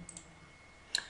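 Computer mouse clicking, two faint quick clicks near the start and a sharper, louder double click near the end, close up in an otherwise quiet room.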